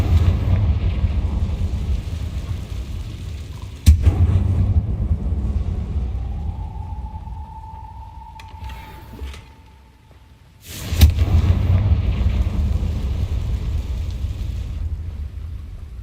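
A Confringo explosive spell blasts in Hogwarts Legacy with sudden booming impacts and a rumbling roar that fades to near silence, then a second sharp blast and continuing rumble.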